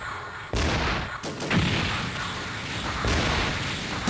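Gunfire effects from the Sega Saturn game Mobile Suit Gundam Side Story 1, with the player firing from a mech cockpit: a few heavy, booming blasts with rumbling tails, loud and close.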